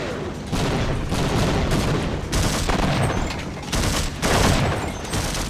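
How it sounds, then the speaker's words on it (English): Explosions and gunfire in the PC game Half-Life, with a grenade blast among loud, dense bursts of battle noise that fill the scene in repeated waves. "Oh, that was a grenade."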